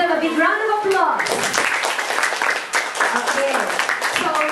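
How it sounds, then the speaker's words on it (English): Audience applause at a school debate at an elementary school, a dense burst of many hands clapping that rises after a short spoken lead-in and carries on steadily to the end. "let's give them a big round of applause."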